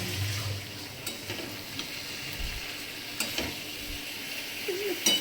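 Mushrooms frying in a pan on a home kitchen stove, a steady soft sizzle with occasional stirring scrapes and clinks, fairly close, with no voices.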